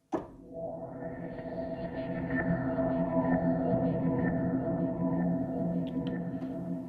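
A sustained Arturia Emulator II-V synthesizer tone starts abruptly and holds steady, its bright upper harmonics slowly shifting as a filter cutoff envelope sweeps, with no talking.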